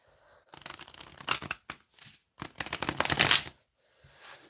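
A deck of tarot cards is shuffled close by, producing loud riffling bursts of card flutter broken by brief pauses, with no talking.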